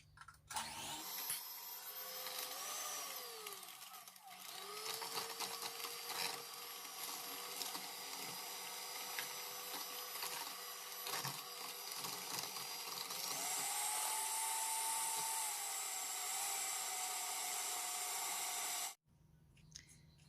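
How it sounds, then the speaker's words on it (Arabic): An electric hand mixer whips chantilly cream in a bowl with a steady, loud whirring drone that shifts in pitch as it works, then cuts off abruptly near the end. "غادي نجيب الباطور ولا الطراب الكهربائي باش نطلع هذيك الكريمه ديالي"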